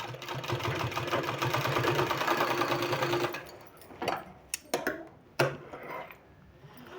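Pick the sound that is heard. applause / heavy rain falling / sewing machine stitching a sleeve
sewing machine stitching a sleeve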